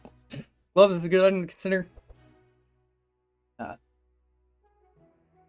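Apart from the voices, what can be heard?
coughing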